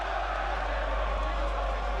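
Boxing arena crowd at the Joshua vs Ruiz fight, a continuous loud roar of massed voices and cheering with a heavy low rumble underneath.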